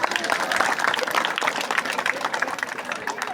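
Sustained applause from an audience gathered for a religious discourse on a Puranic story, dense steady clapping filling the whole stretch with a crowd murmur beneath.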